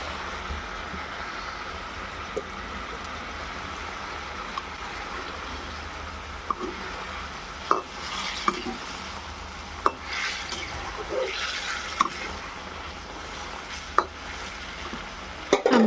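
Bata fish curry with fennel bubbling gently in a pan, a low steady simmer with soft hiss and occasional faint ticks and clinks, no one speaking.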